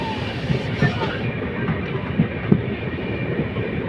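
The North East Express train runs between New Jalpaiguri and New Alipurduar, a steady rolling rumble from on board with soft, regular wheel thumps and clatter throughout.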